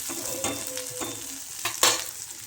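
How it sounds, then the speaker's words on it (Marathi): Onion and tomato fry in oil for a moong dal amti, giving a soft, continuous sizzle broken by a few sharp spoon scrapes and stirs in the pan, close and with no speech. "कांदा ते छान तळलं जातं किंवा भाजलं जातं तेलामध्ये"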